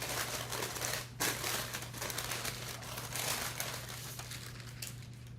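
Paper peeled slowly off a low carb pie crust gives faint, close crinkling and soft tearing rustles over a steady low hum, with no speech.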